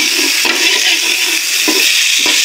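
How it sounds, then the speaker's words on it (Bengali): Food being stir-fried in a pan gives off a loud, continuous sizzle, with a few sharp spatula scrapes and knocks breaking through at intervals. "এইভাবে লাড়াচাড়া করে ভাজা ভাজা করা"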